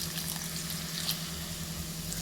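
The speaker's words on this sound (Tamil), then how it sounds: "இப்போ நம்ம தேவையான அளவு தண்ணியையும் விட்டுடலாம்." Water pours into a sizzling pan of capsicum gravy, a steady rushing hiss that stays loud and close for a couple of seconds with no talking.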